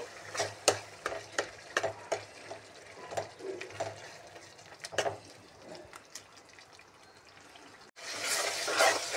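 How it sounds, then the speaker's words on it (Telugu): Ginger garlic paste frying with onion and tomato for a vanjaram fish curry, with steady sizzling and repeated scraping stirs close by, growing louder and hissier near the end. "ఇప్పుడు మనం వేసి పెట్టుకున్న అల్లం వెల్లుల్లి పేస్ట్ వేసి ఇది బాగా పచ్చి వాసన పోయిందాక వేయించుకోవాలి"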